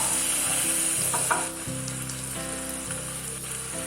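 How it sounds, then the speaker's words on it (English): Garlic butter prawns sautéing in a pan with fresh lemon juice give a steady close sizzle and frying crackle, with stirring scrapes throughout and a brief pop near the middle. "Add some fresh lemon juice and saute it."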